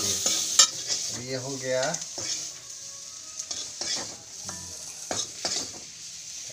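Paneer frying in a pan with turmeric, quiet sizzling under spoon stirs and clinks, with a brief remark from a voice near the start.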